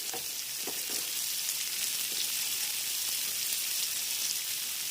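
Slit green chillies and cabbage frying in a pan, a steady hissing sizzle throughout with a few soft knocks of stirring early on.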